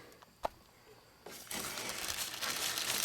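A wrapped paper tag on a car being handled, opening with a sharp tap and then giving way to a continuous close crinkling and rustling that grows louder and fuller after a second.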